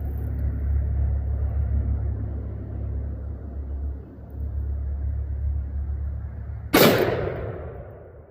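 A .460 S&W revolver fired at an outdoor range, one sharp, loud, close gunshot that rings off briefly, after a steady low rumble of wind or engine noise, with no talking.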